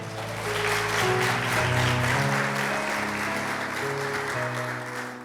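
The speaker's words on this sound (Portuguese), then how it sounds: "Aplauda ao Senhor" A church congregation at an Assembleia de Deus Bereana service claps steadily throughout, the applause mixed with sustained organ or keyboard chords playing beneath it.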